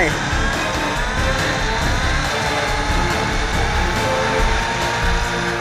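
Engine roar of a racing car accelerating in the mobile racing game Asphalt 6, a steady loud whine held throughout, with a voice talking over it.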